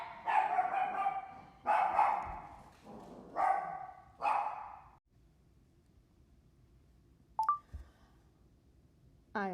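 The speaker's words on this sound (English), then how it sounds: "I apologize for my dog" A pet dog barks four times in a row, close and fairly loud, then goes quiet, and a short electronic beep follows with nobody speaking.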